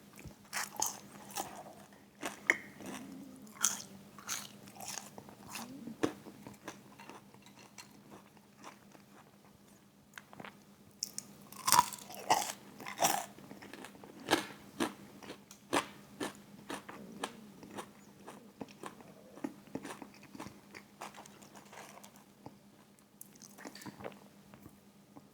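Crispy french fries from a Jollibee meal being eaten, with repeated close, sharp crunches and bites followed by softer chewing, spaced irregularly over a quiet background hum.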